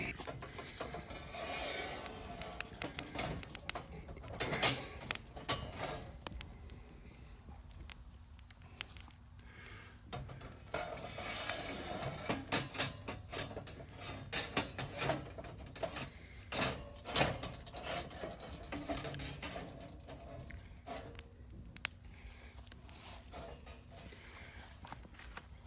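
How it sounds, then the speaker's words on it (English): Metal grill grates slide and scrape into a collapsible metal grill in repeated rasping, clanking bursts with pauses between them, fairly close and moderately loud. "the grill grate slid in a lot easier than I made it look"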